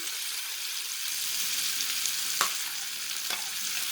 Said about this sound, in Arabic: زي ما انتم شايفين كده، ياخدوا تشويحة مع الفلفل مع البصل